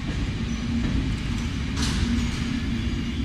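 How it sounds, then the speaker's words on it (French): The Vauban EuroCity train being hauled through the French side of Basel station by a small rod-drive locomotive, a steady low rumbling roll with a faint hiss, continuous and fairly loud. "notre train, le Vauban Eurocité numéro 90, est tiré dans la partie française de la gare de Bâle par le petit loco à Bielle."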